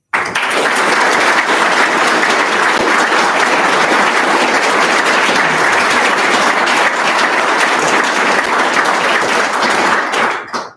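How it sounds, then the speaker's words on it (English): Loud, sustained applause from a large crowd at a public forum for New Hampshire governor candidates, steady clapping filling the space for about ten seconds before cutting off. "Let's give both candidates another round of applause, please."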